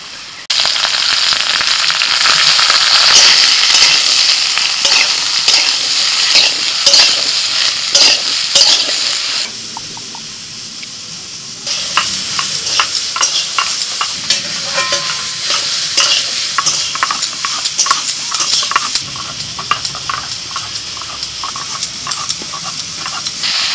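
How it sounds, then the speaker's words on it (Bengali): Potato and ridge gourd sizzle steadily in hot oil in a pan, a loud continuous fry broken by a brief quieter stretch, with frequent spatula scrapes and stirring clatter and no voices. "আলুটা একটু ভালো করে ভেজে নিয়ে দিয়ে দিচ্ছি ঝিঙে।"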